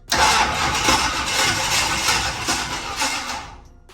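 A 1968 Chevrolet C10 pickup engine cranks and catches, then runs steadily at a loud, close idle for several seconds before cutting off abruptly.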